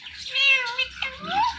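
A five-year-old parrot mimics a cat's meow, producing a rising, tonal, meow-like call with a few harmonic sweeps over about a second and a half, close and fairly loud.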